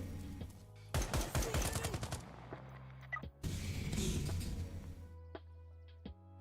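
Video game gunfire in a space shooter, with two clusters of rapid, loud automatic shots: a fast burst of sharp cracks followed after a pause by a denser sustained volley, then scattered single impacts over a low ambient hum.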